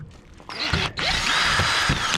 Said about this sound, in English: grab our drill